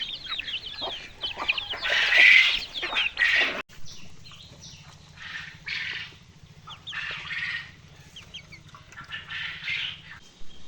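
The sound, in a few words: desi chickens clucking on a farm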